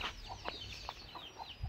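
Native country chickens cluck in a quick, uneven series of short calls over a steady background hiss, with no voices.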